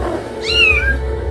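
A single drawn-out cat meow rises and falls in the middle, fairly close, over a steady low background hum, with no talking.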